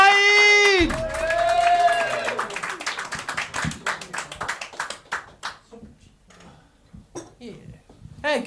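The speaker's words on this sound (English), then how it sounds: "ladies and gentlemen, start clapping over here, clapping all the way around." Comedy club audience at the Chicken Box clapping and cheering as an act is welcomed to the stage, a loud burst of crowd noise that fades into scattered claps with a voice talking over it.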